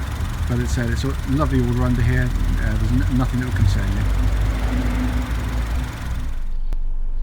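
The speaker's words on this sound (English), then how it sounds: "the engine noise you hear is a lot louder on the video than it is actually in reality" A 2010 Honda Civic 1.8 i-VTEC ES petrol engine idles steadily under an open bonnet, a smooth, even low hum running close and loud throughout while someone talks over it.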